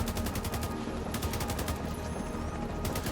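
Rapid gunfire rattles continuously from automatic weapons in The Division 2 shooter game, dense bursts packed together with a few brief pauses, loud and close with no talking.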